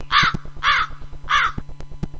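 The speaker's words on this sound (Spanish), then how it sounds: "cuervos o pájaros, urracas, no sé" Three harsh crow or magpie caws from a sound card effect, evenly spaced and loud, with a steady ticking pulse running beneath.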